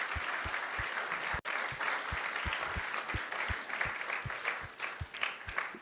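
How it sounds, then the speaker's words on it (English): An audience at an ISKCON temple talk gives a sustained round of applause, dense overlapping clapping with a steady beat of thumps underneath, moderately loud throughout. "So let's give him a big round of applause and express our gratitude."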